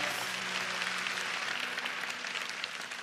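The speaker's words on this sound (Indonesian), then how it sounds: "Kasih tepuk tangan bagi Tuhan dan bagi orang-orang tua." A church congregation gives a moderate round of clapping, an even, steady patter that stays at a consistent level for a few seconds with a faint hum beneath.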